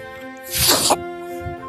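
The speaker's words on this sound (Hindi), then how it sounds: "छींके आ रहे हैं।" A single sneeze bursts out on the roof of an old fort in cold weather, loud and breathy, with a faint steady background hum behind it.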